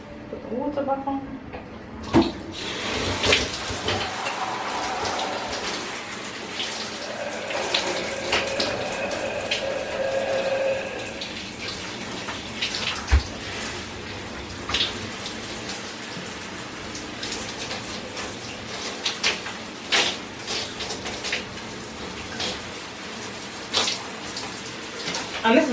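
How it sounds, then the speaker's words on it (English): Running shower water splashes and patters steadily during a hair rinse, with a person talking intermittently over it. "Put the water back on."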